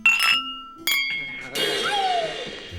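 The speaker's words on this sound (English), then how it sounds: "Suddenly the room fills with the sound of clinking glasses." Several glasses clink together in a toast, bright ringing chimes that overlap and decay, followed by a murmur of room noise with a fading tonal ring.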